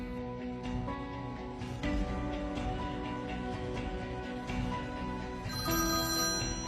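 A telephone rings with a steady electronic tone over background music, no voices, loud and continuous throughout.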